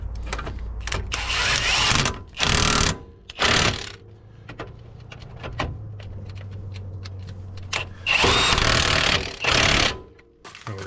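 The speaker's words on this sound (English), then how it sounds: "Just want to make sure they're threaded in by hand before you rattle them on with the gun." An impact gun rattles bolts tight on a Nissan Pathfinder's front brakes, firing in several loud, harsh bursts of a second or so each, with quieter mechanical handling and clinks between them.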